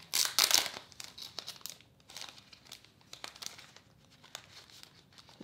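Sheets of planner stickers being handled for a Hobonichi Weeks planner setup, giving crisp crinkling and rustling bursts, loudest at the start and then softer, scattered paper rustles close by, with no talk.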